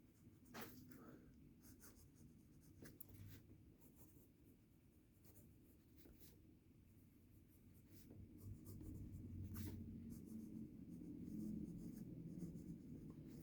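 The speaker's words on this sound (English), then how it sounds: "we're just going to do a little writing sample" A French Evergood fountain pen writing a sample line on paper, quiet scratchy nib strokes in short bursts with pauses between words, close and faint over low room hum.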